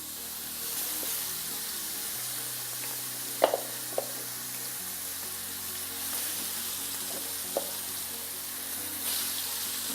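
Vegetable slices sizzle as they fry in a small pan, a soft continuous hiss with a few sharp pops and spits. A low hum runs beneath it.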